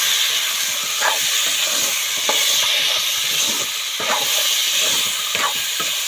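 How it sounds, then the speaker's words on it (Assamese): Pork meat frying in a pan gives a steady, bright sizzle and hiss throughout, with occasional sharper crackles and spits breaking through, close and fairly loud with no voices. "এতিয়া অলপ সময়ৰ কাৰণে ভাজিলোঁ।"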